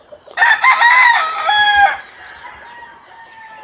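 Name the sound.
stag (young gamecock) crowing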